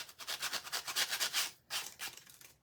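A wooden snowman tier tray craft piece is sanded with a power sander for a chippy farmhouse finish, giving rhythmic close rasping strokes that pulse steadily, then pause briefly before resuming.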